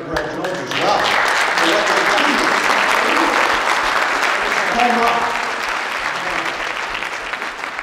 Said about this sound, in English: they need to be applauded for this